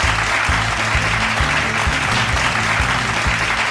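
Big, loud crowd applause at a regional quiz competition, sustained dense clapping that fills the hall steadily for the whole stretch, with a low rhythmic thump running underneath.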